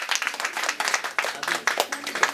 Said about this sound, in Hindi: आपकी तालियां